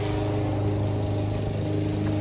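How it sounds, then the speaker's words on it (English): A leaf blower clears leaves off a sidewalk, its engine a loud, steady drone that holds at an even pitch throughout. "He's blowing the leaves off."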